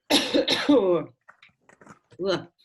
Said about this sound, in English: just do that little cough